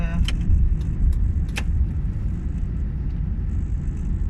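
Inside a moving car on a road, a steady low engine and tyre rumble fills the cabin, with a few brief light rattles or clicks early on, no talking.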